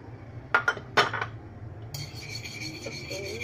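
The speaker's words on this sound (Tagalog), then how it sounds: "So, mainit na siya. Lagay na natin ang mantika." Cooking oil goes into a hot wok: a couple of sharp metal clanks, then a steady, fairly quiet hiss and crackle that continues to the end, with no talking.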